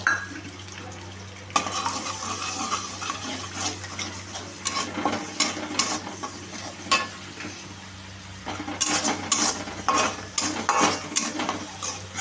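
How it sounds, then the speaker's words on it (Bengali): An egg frying in oil in a pan for egg chowmein, a steady sizzle that turns louder and crackly partway through, with spatula scrapes and clinks against the pan. "এখন আমি এই তেলে ডিম দিয়ে ডিমটাকে ফ্রাই করে নেব।"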